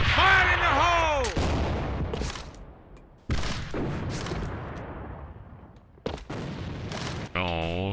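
Grenade explosions in a first-person shooter game, three sharp loud bursts that each decay into a rumbling tail, mixed with game effects and a rising electronic tone at the end.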